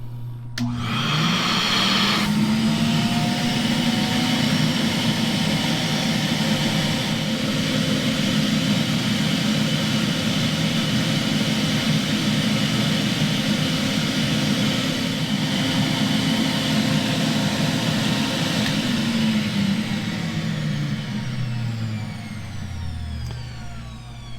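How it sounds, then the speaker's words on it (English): A Pro-Ject VC-E record cleaning machine runs its vacuum with a loud, steady whine and roar that starts abruptly, holds for about twenty seconds, then winds down in pitch. No one speaks. "And then we'll let the vacuum do its job."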